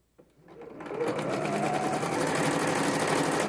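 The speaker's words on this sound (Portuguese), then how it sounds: "Vamos passar uma costura aqui, deixa aqui aberto." A sewing machine runs a steady seam through a fabric wallet, starting after a brief quiet moment and then whirring continuously and close at an even pace until the clip ends.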